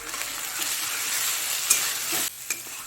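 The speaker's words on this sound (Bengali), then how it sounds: "আদা রসুনটাকে ভালো করে একটু ভেজে নেব, যাতে আদা রসুন থেকে কাঁচা গন্ধটা চলে যায়।" Ginger and garlic paste frying in hot oil, giving a steady close sizzle with light stirring scrapes and a brief break near the end.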